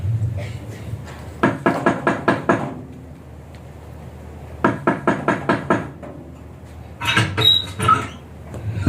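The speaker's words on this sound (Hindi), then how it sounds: "यूसुफ ने मदद के लिए दरवाजा खटखटाया।" Knocking on a door in a school Christmas play, heard as three loud, close bursts of rapid knocks, about six or seven in each of the first two and a shorter, rougher set at the end, with quiet gaps between.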